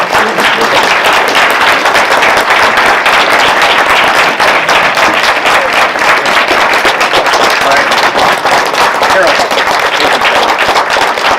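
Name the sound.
audience applause at candidates forum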